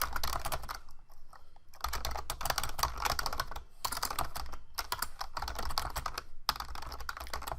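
Close, steady typing on a computer keyboard: dense clattering keystrokes in quick bursts with a few brief pauses, no voices.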